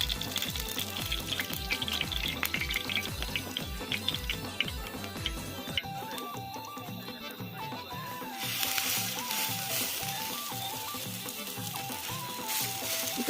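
Oil sizzling on a tawa griddle set down beside a wood-fired chulha stove, a continuous close hiss under a steady rhythmic backing tune with no talk.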